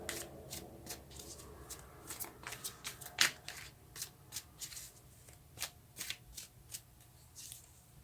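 Tarot cards being shuffled by hand in a reading, a close, quiet run of crisp riffling snaps and flicks in an irregular rhythm, with no talking.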